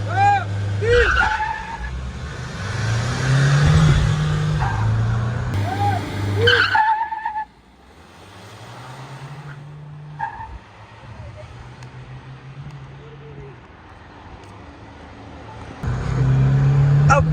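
Mahindra Scorpio SUV on 22-inch alloy wheels racing another Scorpio, engine droning and rising under excited talk, with tire noise, a loud revving pass near the end.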